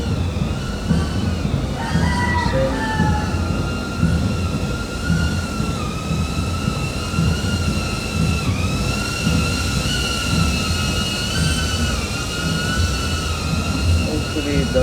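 DJI Avata drone with its propellers whirring steadily, a continuous high buzzing whine with shifting pitch as it descends, close and fairly loud throughout.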